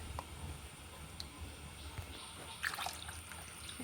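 Rinse water from a mixer jar is poured into a tambuli of monsoon tagathe greens, giving faint, soft trickling and dripping with a few brighter splashes near the end.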